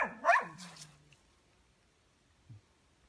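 A dog in a village house near Tver gives one sharp close bark that trails into a whine. A brief faint yelp follows a couple of seconds later in an otherwise quiet room.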